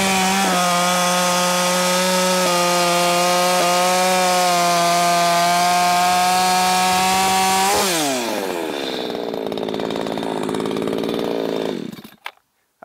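A ported Shindaiwa 600SX chainsaw screams at a steady, loud high rev close by for several seconds, then drops sharply and winds down to idle before cutting off.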